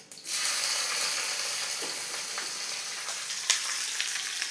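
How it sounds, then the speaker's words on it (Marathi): Cumin and mustard seeds hit hot oil for tempering in a pan, bursting into a loud, dense sizzle that holds steady with occasional faint pops and a light clink, close up and without talking. "तेल घालून जिरं मोहरी घालून घेणार आहे"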